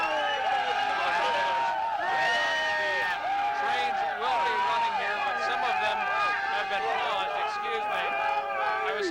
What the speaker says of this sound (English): This is some of the crowd that is heading back from Times Square.